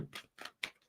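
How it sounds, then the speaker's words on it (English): A tarot deck being shuffled by hand in three quick, crisp bursts of riffling card noise, close and fairly quiet, with no voices. "All right, 2 shuffles. Let's do it."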